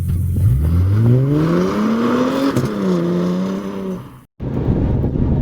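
A Chevrolet Silverado pickup accelerates up through the gears, its engine whine climbing in pitch, easing back, then cutting out briefly for a shift before the loud, close drone resumes.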